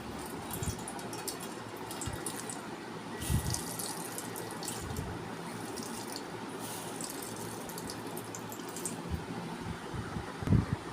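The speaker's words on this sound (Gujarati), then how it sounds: "આ રીતે તેને નીચોવી રાખશું, જેથી આપણે દૂધીનું બધું પાણી નીકળી જાય" Water trickles and drips steadily as grated bottle gourd wrapped in cotton cloth is squeezed by hand, a continuous wet splashing close by with no talking.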